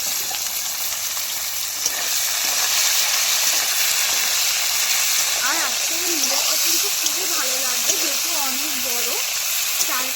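Chopped onions fry in oil until browned for a whole rooster curry, a continuous close sizzle and hiss, with a voice talking over it in the second half.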